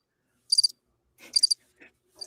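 Crickets chirp in short bright trills, three or four separate bursts against near silence, with a couple of faint softer chirps between them.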